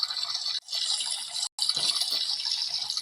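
In a Roblox Brookhaven house, a shower runs as a steady, bright hiss of spraying water that cuts out twice for a split second, with no one speaking.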